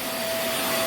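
Vax Mach Air upright vacuum cleaner running on carpet, a loud steady roar with a high whine held throughout, close and alone.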